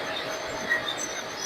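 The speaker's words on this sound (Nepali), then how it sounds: "यो ट्रेन आएको छ।" A train pulls into a station in South Korea, giving a steady, moderately loud rolling rumble with a brief squeal of wheels partway through, and no voices over it.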